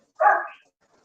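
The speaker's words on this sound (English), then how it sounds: "You see that white dog right there?" A single short dog bark, close and clear, standing alone against silence with no voices around it.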